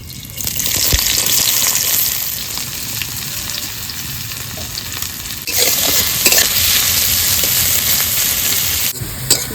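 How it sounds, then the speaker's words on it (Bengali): Onions frying in a pan of oil to become crispy fried onions, a dense, loud, continuous sizzle and crackle heard up close, with occasional stirring disturbances and no talking. "এবার এই তেলের মধ্যে পেঁয়াজগুলোকে বেরেস্তে করে নেবো"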